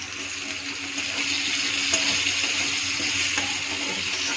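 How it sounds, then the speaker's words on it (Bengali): Chopped onion sizzles steadily in hot oil in a pan with cloves, raisins and cumin, with a loud, even hiss that swells slightly as the onion is stirred. "ওর মধ্যে লং আর কিশমিশ ছেড়ে দিব, নেড়ে ছেড়ে ওর মধ্যে আমি পেঁয়াজটা ছেড়ে দিব।"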